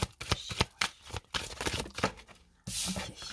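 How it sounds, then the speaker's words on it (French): Tarot cards being shuffled and drawn by hand, a quick series of close, crisp card flicks and slides, fairly quiet, ending in a brief soft rustle. "C'est parti, on va prendre 5 cartes."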